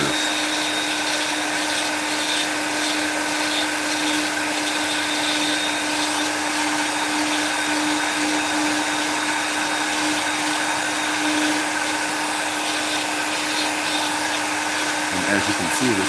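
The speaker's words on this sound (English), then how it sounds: "I just happen to use the Vevor Flexshaft and definitely the KutZall" Vevor flexshaft rotary tool fitted with a KutZall burr carving wood for a fairy house, a loud continuous high whine with a steady tonal hum, running unbroken and close throughout.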